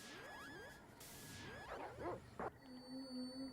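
A video-game dog from Secret of Evermore barks and yips in short bursts amid swooshing game effects and tonal chimes, with no talk.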